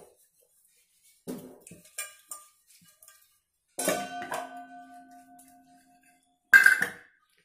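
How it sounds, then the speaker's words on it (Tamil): An oil-stained metal vessel being washed with Vim gel, sounding as a few separate clanks and knocks, one leaving a lingering metallic ring, with quiet gaps between them. "அதே மாதிரி எல்லா இடத்துலயும் விம் ஜெல் போட்டு வாஷ் பண்ணிக்கிறேன் லைட்டா"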